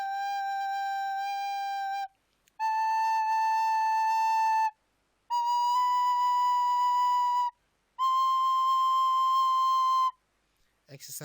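A recorder plays four long, steady held notes, each lasting about two seconds and separated by short breaths, the pitch stepping slightly higher at each note, clear and close, with no talking.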